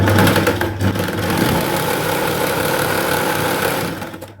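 A sewing machine stitches a chudithar pant in a steady, loud, continuous whir close by, running unbroken for several seconds before easing off at the end, with no talking.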